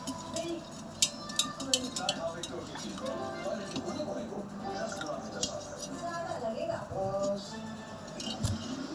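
Food being stirred and mixed in a pot in a home kitchen, with steady scraping, clinks of utensil against metal and rattling dishes running throughout at moderate loudness.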